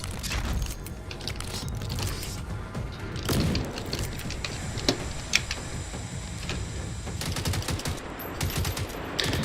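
Gunfire from a weapon in the Terminator video game, a dense stream of sharp rapid shots with a few louder bursts, continuous throughout against busy game noise.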